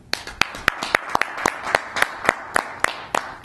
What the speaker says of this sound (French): sous vos applaudissements, nous allons accueillir Isabelle Frappier